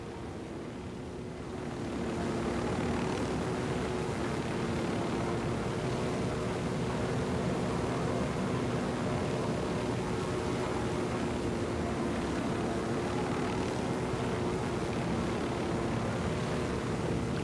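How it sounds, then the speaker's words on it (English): Helicopter flying in the video game Ghost Recon: Wildlands, a steady droning engine and rotor hum that rises after the first two seconds and holds evenly, with no talk. "Flying helicopters and stuff like this is way faster to get around the"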